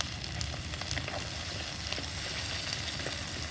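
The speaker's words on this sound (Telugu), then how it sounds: "ఇది కూడా బాగా ఫ్రై చేస్తాను" Mustard seeds, cumin, coriander seeds and lentils fry in hot oil, giving a steady close-up sizzle with light crackling and stirring scrapes throughout, no voices.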